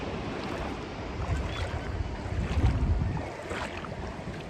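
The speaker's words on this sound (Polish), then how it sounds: "żebyście też usłyszeli to morze, nasze belgijskie piękne morze" Waves of the Belgian North Sea wash in a continuous low rumble mixed with wind buffeting the microphone, swelling gently around the middle.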